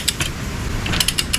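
Ratcheting clicks from a socket wrench tightening lug nuts on a 1996 Corvette's 17 x 11 inch wheels, a few quick close bursts of metallic clicks with pauses between.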